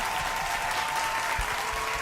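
Steady applause from an audience, a continuous wash of clapping at moderate volume without pauses.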